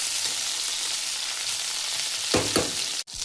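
Bitter gourd pieces sizzle steadily in hot oil for lemon karela, a dense continuous hiss broken near the end by a couple of quick stirring scrapes and a brief dip.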